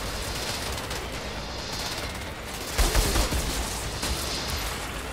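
Pistol gunfire in the video game Outriders, a dense run of shots and impacts over a loud, constant background of game noise, with a heavier burst near the middle.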